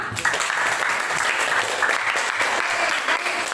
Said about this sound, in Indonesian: Tepuk tangan dilepas dulu untuk teman kita